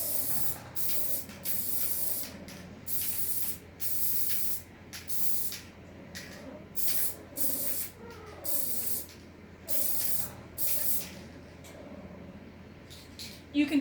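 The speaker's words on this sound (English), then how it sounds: "I spray it right over top of my box." Cheap aerosol spray adhesive such as Gorilla Glue or Elmer's is sprayed over a box in a long run of short, close hissing bursts with uneven gaps between them. No one talks.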